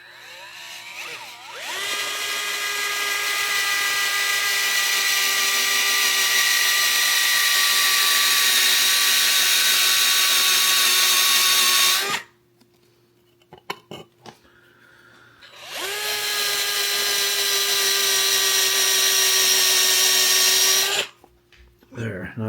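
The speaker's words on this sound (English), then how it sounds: "So that we don't drill" A power drill bores through a metal plate in two long runs, each a loud steady whine that rises in pitch and cuts off, separated by a quieter pause with faint handling and shavings.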